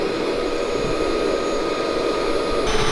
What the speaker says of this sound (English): we're gonna let that blower churn out the K1 micro media for a good 3 to 5 minutes